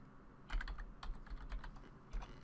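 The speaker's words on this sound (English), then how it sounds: "and then type NVIDIA in here" Fingers tap out a short word on a computer keyboard, a quick irregular patter of close, crisp key clicks with brief pauses between bursts and no talking.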